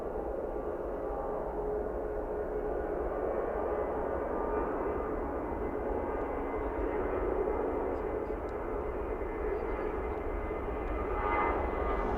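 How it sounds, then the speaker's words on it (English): A British Airways Airbus A320-200 jet takes off at snowy Manchester Airport, a steady, loud broadband engine roar sustained throughout from a moderate distance, with no voices. "taking off next we've got a British Airways Airbus A320-200 going to London Heathrow"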